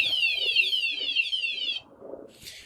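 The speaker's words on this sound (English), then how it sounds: "So if the individual were to continuously vibrate the motorcycle, the alarm will keep going off." A wsdcam 113dB wireless vibration-sensor motorcycle alarm wails loudly in a fast, rapidly warbling siren pattern for almost two seconds, then cuts off, leaving low background rumble and a brief hissy burst near the end.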